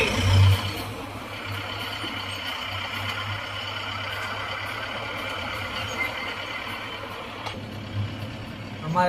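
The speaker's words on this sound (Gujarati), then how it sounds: "ગંગોત્રી જઈએ છીએ, ટ્રાફિક જામ છે. જોઈ લો ફૂલ ટ્રાફિક, આવવા જવાની." Trucks and other vehicles idle and creep through a traffic jam on the mountain road to Gangotri. Engines hum low and steady in a continuous rumble, with a brief louder burst near the start and faint voices in the background.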